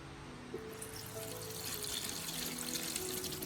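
Hot water pours steadily into a pot with a soft splashing trickle, continuous and fairly close, no voices.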